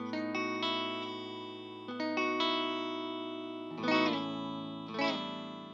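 A PRS electric guitar is played through its humbucker pickups with effects, sustained chords ringing out in overlapping layers and two louder strums late on, clean and close with no voices.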